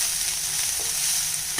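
Coriander leaves are turned over in a hot pan on a low flame, giving a soft continuous sizzle with a couple of faint scraping stirs.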